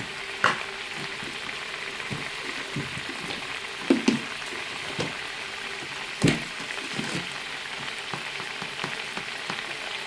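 Onion curry crackles and sizzles steadily in a pan, broken by a few sharp clinks and scrapes as a spoon stirs it, close by and without talk.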